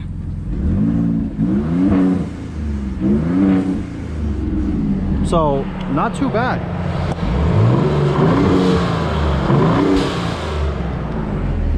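A 2019 Hennessey VelociRaptor V8 truck revs repeatedly, its loud, close engine note climbing and falling, with sharp whooshing blow-off bursts midway and someone talking briefly over it.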